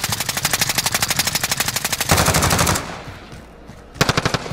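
Rapid automatic gunfire in the Call of Duty video game, a loud sustained burst of evenly spaced shots, then a short noisy blast and a lull before another fast burst resumes, with no voices.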